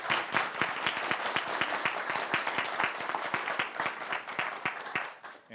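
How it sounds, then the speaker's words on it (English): Conference attendees at a climate finance summit applaud the panelists, a full crowd of clapping with a few distinct nearer claps keeping a quick beat, fading at the very end. "a big round of applause for our panelists"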